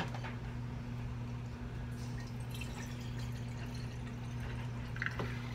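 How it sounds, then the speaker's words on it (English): Filtered water pours into a coffee pot in a kitchen as a steady, soft rush under a low electrical hum, with a few faint drips near the end. "Okay, so I'm adding some filtered water."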